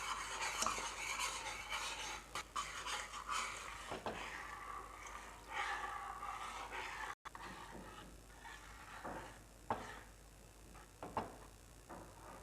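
Ground jackfruit payasam being stirred in a pan: quiet, steady scraping and swishing of a spoon against the metal, with soft irregular clinks, heard alone without voices.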